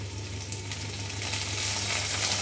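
Red chilli hitting garlic that is frying in a pan for a garlic chutney gives a steady, close sizzle that grows slightly louder and hissier toward the end, with no voices.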